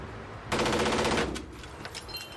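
A full auto AR-15 rifle fires one loud rapid burst lasting under a second, played back from a recording and then fading into a faint tail.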